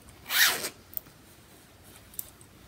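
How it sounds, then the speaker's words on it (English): A zipper on a canvas bag with a green zip being pulled open in one quick, loud rasping stroke, followed by a couple of faint clicks in a quiet room. "green zip"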